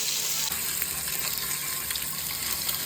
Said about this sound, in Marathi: ती अंडी फुटावी नाही म्हणून आपण अंडी फ्राय करून घेऊया तेलामध्ये। हळद, मीठ, मसाला टाकून शॅलो फ्राय करून घेऊया।